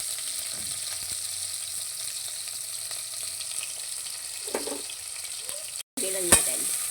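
Tomatoes frying in a pan of hot oil for salmon sinigang make a steady close sizzle throughout, broken by a brief cut and a few clinks of stirring toward the end, with no talk.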